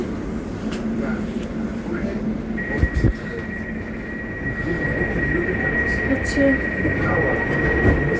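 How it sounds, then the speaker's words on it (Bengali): An Elizabeth line train pulls into Ilford station with a steady rumble and a long high whine from the wheels or motors, heard on the platform beneath a person's voice. "দৌড়িয়ে দৌড়িয়ে চলে আসলাম ট্রেন চলে আসছে"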